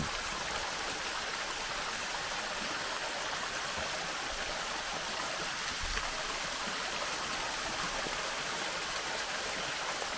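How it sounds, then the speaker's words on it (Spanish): Steady rain hisses continuously with an even, dense wash of sound and no voices. "Uf, qué lluvia"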